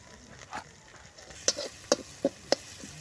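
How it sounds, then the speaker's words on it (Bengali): Spice paste of ground ginger, garlic, onion and pepper with salt, cumin, chilli and coriander powder stir-fried in a pan, with a faint sizzle under a handful of sharp spatula scrapes and taps spaced about half a second apart. "খুব সুন্দর করে কিন্তু মশলাটা ভেজে নিয়েছি"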